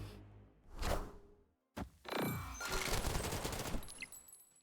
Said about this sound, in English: I love the rocket animations and sounds.